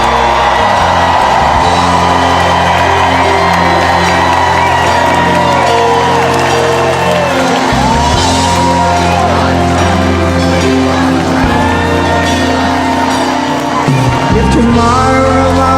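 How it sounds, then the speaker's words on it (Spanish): A large crowd at a political rally for President Donald J. Trump cheers and whoops in a sustained loud ovation, with yells and music blending through the roar. "ahí lo recibieron con una ovación"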